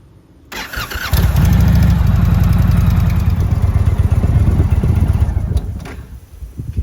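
An Indian Roadmaster motorcycle's Thunderstroke 111 engine starts up after an oil change and runs loud and close, with a steady rumbling idle that eases slightly toward the end.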